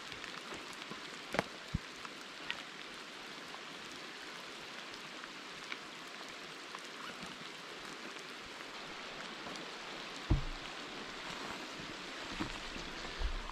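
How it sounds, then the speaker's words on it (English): Steady rain falls at a wilderness campsite during a humid storm, a dense even hiss of drops with occasional louder close taps and knocks. "Like, it's raining, but it's humid."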